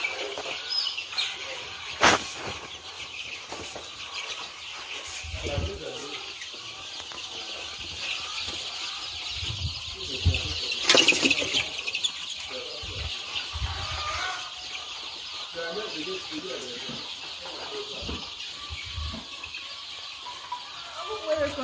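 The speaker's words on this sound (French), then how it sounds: "les poulets sont en pleine forme et épanouies dans un nouvel espace" Young laying hens clucking on a farm in a newly enlarged enclosure: steady soft clucks and occasional squeals from the flock, with sharp knocks and a voice speaking at times.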